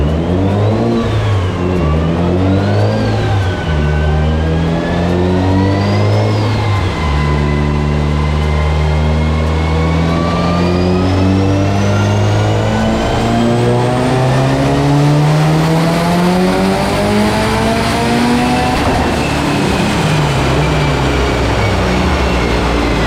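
Mitsubishi Evo 8 engine on a dyno revs hard and loud, climbing through a long sustained pull after a few short blips, with strong harmonic whine and no talk.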